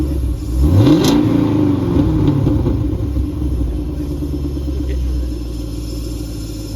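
A car engine starts with a brief rev and then settles into a loud, steady, close rumble that stays continuous throughout.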